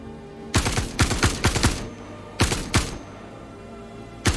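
Gunfire in a VR first-person shooter with no respawns: several loud, sharp clusters of quick shots, two or three rounds each, separated by short pauses, then a single final shot.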